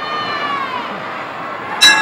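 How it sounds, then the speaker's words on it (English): Crowd noise rising from a wrestling match audience in Houston, 1979, a sustained, distant roar of screaming and cheering throughout, with a sharp burst of a brighter shout near the end. "The crowd is screaming for Jose."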